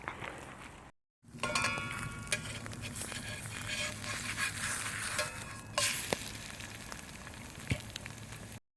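Bacon and egg frying in a pan over an outdoor campfire, a steady close sizzle with sharp spitting pops and crackles throughout, briefly cut out near the start.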